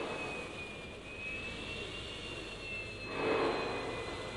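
A 1961 Dassault Mirage III jet in flight, a steady roaring engine whine with a thin high tone running throughout, swelling briefly louder toward the end, with no voices over it.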